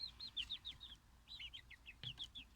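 Backyard flock with a Buff Orpington and a mixed-breed rooster: quick high chirps and clucks in rapid repeated bursts, fairly close and alone.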